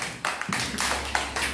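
Children in a classroom clap together in a short, sharp burst of overlapping hand claps, close and fairly loud, with no talking.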